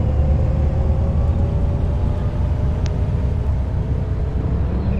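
Steady low engine rumble of a Crossway Line 12 bus driving onto a bridge in Bus Simulator 21, a continuous moderate drone with no talking.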